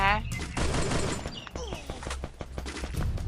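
Rapid video game gunfire, bursts of automatic shots crackling over a busy game soundscape, loud and close, with players' voices in the mix.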